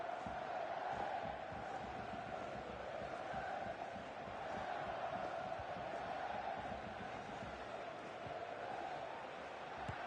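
A stadium crowd in the football game FIFA 23 keeps up a steady, full roar throughout, with a sustained murmur and chant-like swell and no sharp peaks.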